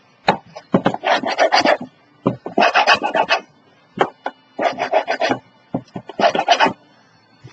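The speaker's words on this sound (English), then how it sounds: "now we're going to take our bone folder, burnish it down" A bone folder burnishes paper down on a small baby trunk, giving repeated bursts of dry rubbing and scraping strokes in quick rhythmic groups with short pauses between, close and clear.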